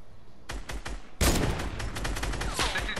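Video game gunfire: a quick burst of shots, then a louder, denser volley of rapid gunfire with a few trailing shots, close and alone.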